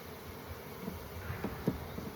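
Honeybees buzzing steadily as a hive is opened for inspection, with nectar coming in from dandelions, a close, continuous low hum with a few louder passes near the frames.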